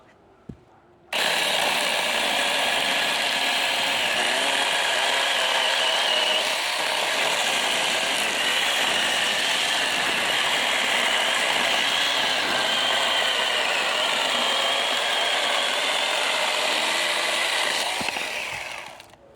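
A small garden mini saw bites into hardwood, kicking in after a brief quiet and then holding a loud, continuous buzzing whine for nearly twenty seconds before easing off at the end.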